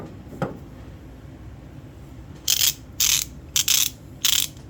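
A DURATECH 90-tooth ratchet clicks in four short, close bursts of fine, rapid pawl ticks, heard alone after a faint knock.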